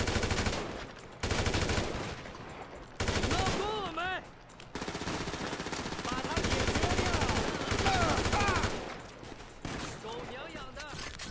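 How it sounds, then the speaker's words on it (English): Rapid automatic gunfire rattles in bursts during a Grand Theft Auto V playthrough, loud and dense with short gaps between volleys, while game voices speak over the shooting. "He runs away and I stay and I shoot."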